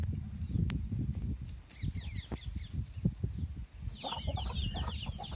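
Naked neck country chickens cluck and murmur up close in a farm yard, with soft repeated clucks and a few sharper calls over a low rustling background.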